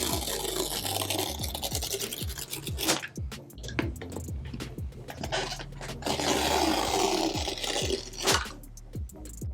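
Pull tabs are peeled off the back of a 15-inch M2 MacBook Air box, a close, continuous scratchy tearing and scraping that swells and fades over several seconds.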